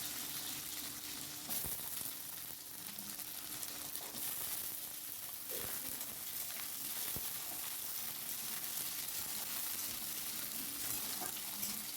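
Jackfruit seeds, potato and slit green chillies fry in oil, producing a continuous, even hiss of sizzling with an occasional faint clink, steady and moderately quiet throughout.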